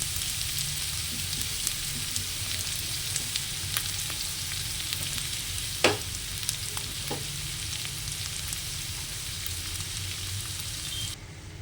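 Peanuts and chopped onion sizzle in hot oil in a pan, giving a steady close frying hiss with occasional sharp clicks and scrapes from stirring, ending abruptly.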